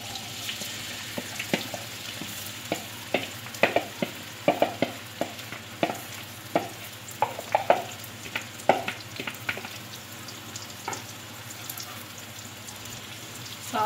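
Potatoes fry in about half a cup of oil in a kadhai, a soft continuous sizzle broken by frequent sharp scraping and clinking as a spatula stirs them, close and without talk.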